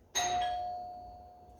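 A doorbell chimes once with a sharp, bright strike that rings out and slowly decays over more than a second, heard alone in a quiet room.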